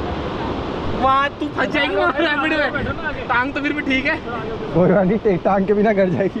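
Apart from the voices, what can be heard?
river rapids water splashing while rafting in Rishikesh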